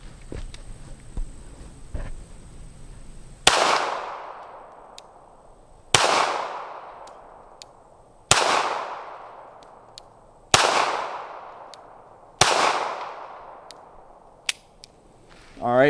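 Smith & Wesson Bodyguard pistol fired at a range: five sharp, loud shots spaced about two seconds apart, each with a ringing decaying tail, after a quieter stretch of faint handling noise.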